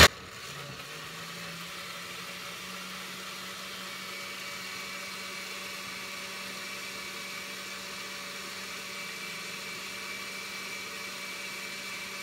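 A blender runs steadily, grinding sauce ingredients for tortas ahogadas with no added liquid, a constant loud whirring motor drone that holds for the whole clip, with no talking.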